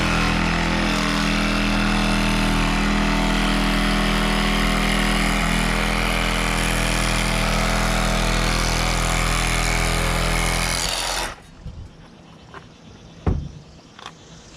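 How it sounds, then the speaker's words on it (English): A windshield extractor tool cuts out the windshield of a 2020-2022 Subaru Outback, a loud continuous buzzing whine lasting about eleven seconds before cutting off, followed by a few faint knocks and clunks. "I'm just gonna cut this side as much as I can with the extractor"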